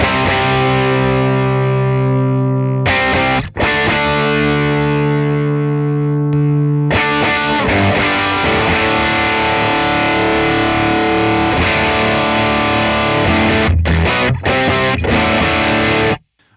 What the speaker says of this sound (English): push the gain and the volume up a little bit